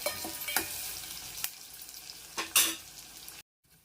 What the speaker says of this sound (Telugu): ఉల్లిపాయలు బాగా చక్కగా వేగినాయి అన్నమాట